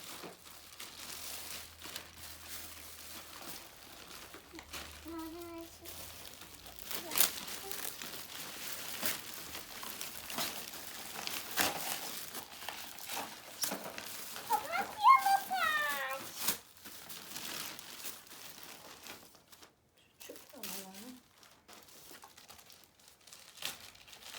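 Gift package wrapping being crinkled and torn open: soft, intermittent rustling and ripping sits fairly close, while children and adults chat at several points.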